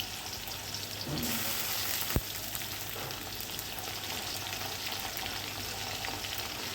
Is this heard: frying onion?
yes